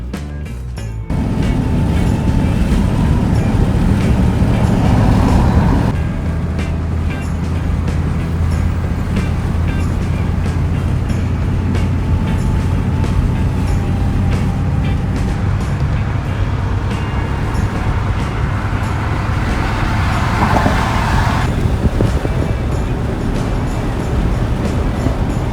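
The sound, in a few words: truck driving down the road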